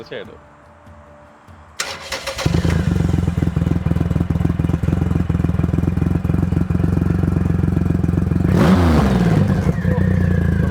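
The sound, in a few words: Triumph Rocket 3 Touring 2300cc motorcycle engine firing up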